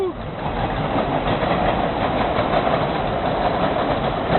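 A subway train rumbles past with a steady, continuous roar and faint rail clatter, fairly loud and unbroken throughout.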